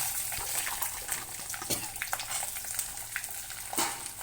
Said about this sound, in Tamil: பூண்டை போட்டு நம்ம நல்லா வதக்கிக்கணும்